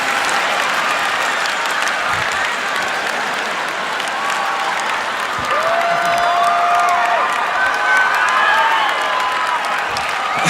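Comedy club audience breaking into sustained applause mixed with cheers and whistles, a dense, loud wall of clapping that holds steady for about ten seconds with no one talking over it.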